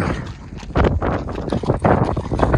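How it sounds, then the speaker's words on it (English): Gusty wind buffets the microphone outdoors on a ride through open country, a steady roar with stronger surges and no talk. "It's windy."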